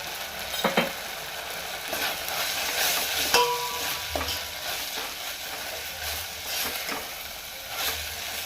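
Green chillies with coriander powder and cumin powder frying in a pan, a steady sizzle broken by scraping stirs and occasional clinks of a utensil, with no talking.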